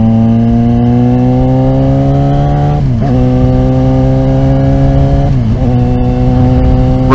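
A starter motorcycle engine idles and revs close by, a steady buzzing drone whose pitch slowly climbs, then dips sharply twice as the throttle is blipped before settling again.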